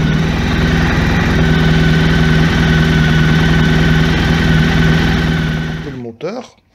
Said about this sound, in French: Au-delà des 10 minutes, le moteur réchauffe bien.